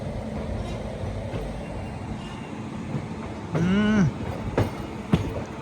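Hampi Express passenger train running past near Mysore Junction, a steady rumble of rolling wagons with a brief wheel squeal and a few clanks, fairly close.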